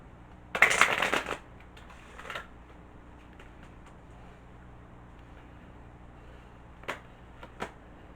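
Native Spirit Oracle cards are shuffled in one brisk riffle near the start, followed by a few softer card flicks and taps scattered through an otherwise quiet stretch.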